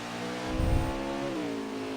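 A NASCAR Xfinity race car engine at Road America roars steadily at high revs, surging briefly as it passes nearby, loud and continuous.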